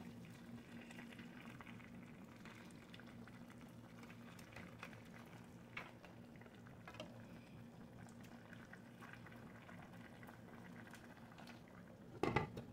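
Fried bluefin tuna simmering in coconut milk for Filipino ginataan, a soft steady bubbling and gentle liquid patter throughout, closing with a brief louder clatter.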